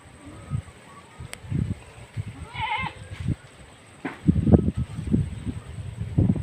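Goats in a forest: a brief, faint bleat midway over low rustling and soft thumping footsteps nearby.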